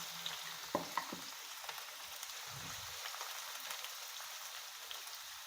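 Bitter gourd slices frying in hot oil in a pan, a steady soft crackling sizzle running throughout with a few brief clinks near the start, no voices.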